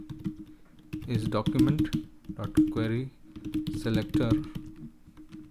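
Code is typed on a computer keyboard in quick bursts of close, light key clicks, heard under someone speaking steadily throughout.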